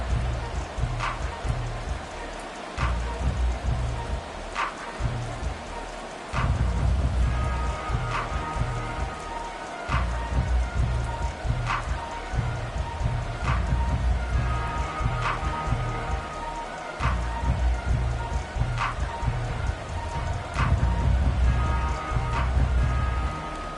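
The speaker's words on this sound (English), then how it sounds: "The rain set to continue as we are underway in the second half." Steady rain falls during an EA Sports NFL football game between the Cowboys and Giants, an even hiss with pulsing low crowd rumble and sharp periodic clicks underneath.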